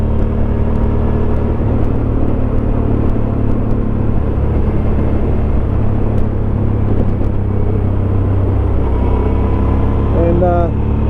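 A 2005 Suzuki V-Strom 650 motorcycle rides through tight, twisty corners, its engine a steady droning rumble with wind noise throughout, heard up close and continuous.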